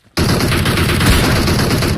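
Dense, continuous automatic gunfire bursts from a multiplayer video game firefight, loud and close, starting abruptly after a brief quiet moment and sustaining without pause.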